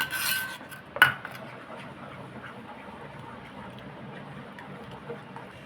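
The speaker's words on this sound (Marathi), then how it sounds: "आता मी हा रस काढलेला आहे ना तो घालून घेते हे मिक्स करून घेऊया चांगलं" Mango pulp being stirred into melted jaggery in a pan, a soft wet scraping and squelching with a sharp clink near the start, then steady low rubbing strokes continuing faintly.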